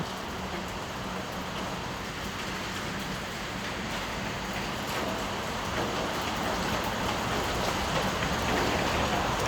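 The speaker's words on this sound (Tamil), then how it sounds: "மறுபடியும் மழை வர ஸ்டார்ட் ஆகிடுச்சுங்களா" Steady rain falls outside an Eicher lorry parked on a muddy route, a broad, constant hiss with no voices and only a faint low rumble underneath.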